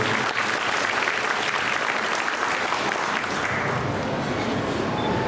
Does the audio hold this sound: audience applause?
yes